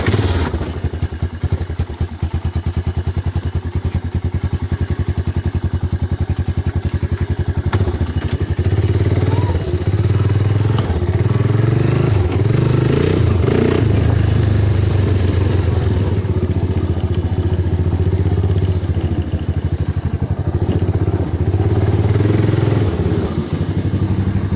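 A motorcycle engine runs at a steady idle close by, with clattering and thuds as the bike is moved into a garage; a brief voice is heard.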